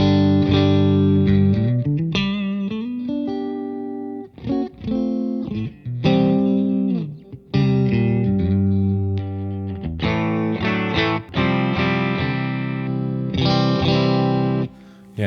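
Electric guitar played through a Morgan MVP66 tube amp, a sequence of chords and riffs with sustained ringing notes and short pauses between phrases, loud and close.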